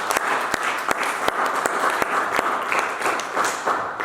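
Audience applause during a church service, a steady wash of many hands clapping with sharp individual claps standing out, moderately loud and continuous for a few seconds.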